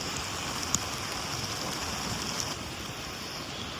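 Steady heavy rain pours down at an outdoor Dussehra fair where Ravana effigies stand, a dense even hiss with no voices.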